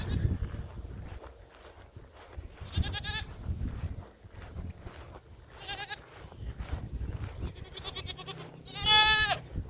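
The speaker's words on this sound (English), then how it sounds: "first we'll go say hi to the goats" Several goats bleat loudly nearby, their calls spaced apart and one especially strong near the end, with rustling footsteps and movement in between.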